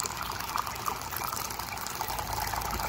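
Water pours steadily into an aquaponics U-siphon pipe, a continuous rushing, gurgling flow heard close and unbroken throughout.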